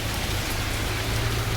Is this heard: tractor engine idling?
no